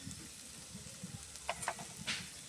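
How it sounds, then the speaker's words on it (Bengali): Prawn chop masala sizzling as it is sautéed in a pan, a faint steady frying hiss with a few soft scraping stirs and light clinks near the end, no voices. "চপের মশলাটা কিন্তু বেশ খানিকক্ষণ ধরে আমি কষিয়ে নিয়েছি"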